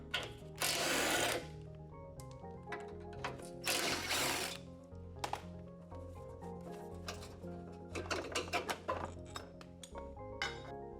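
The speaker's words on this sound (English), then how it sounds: "Then use a 13mm socket to remove the mount." A 13mm socket ratchet clicks in rapid bursts at close range removing a driver's side radiator mount bolt, with gritty scraping and ratcheting in between the bursts.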